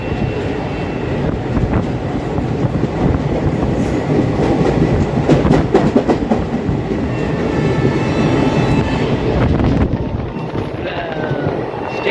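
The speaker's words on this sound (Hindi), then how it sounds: "यहाँ से निकलते हुए crossing with Asansol Gorakhpur special train" The Asansol–Gorakhpur special passenger train passes close alongside on an Indian railway with a continuous loud rumble and rapid clickety-clack of wheels over rail joints, plus occasional metallic clanks.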